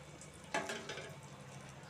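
Athirasam, a sweet, fries in hot oil with a soft, faint sizzle, one piece at a time. A brief scrape or stir stands out early over the low, continuous bubbling.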